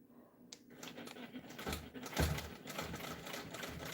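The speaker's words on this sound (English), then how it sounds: "locking in my stitches" A sewing machine runs a short burst to lock stitches while quilting, its steady mechanical chatter close and moderately loud for a few seconds with a soft thump in the middle.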